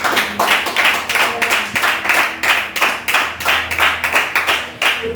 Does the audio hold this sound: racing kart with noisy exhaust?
no